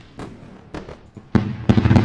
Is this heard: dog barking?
no